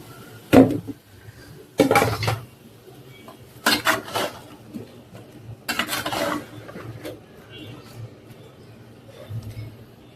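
Cauliflower stirred into fried spices in a cooking pan, heard as a few scraping, clattering strokes of a utensil against the pan with quiet gaps between them.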